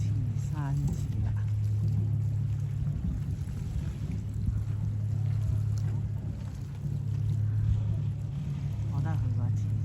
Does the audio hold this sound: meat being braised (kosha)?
no